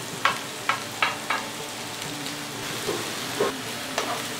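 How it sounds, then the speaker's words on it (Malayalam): Ginger and garlic frying in oil with onion for a samosa filling, a soft steady sizzle broken by several brief stirring scrapes and clinks, close by and fairly quiet, with no talking. "ഇതൊന്ന് എണ്ണയിൽ കിടന്ന് നന്നായിട്ടൊന്ന് വാടി വരണം"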